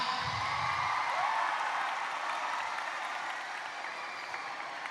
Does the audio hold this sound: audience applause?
yes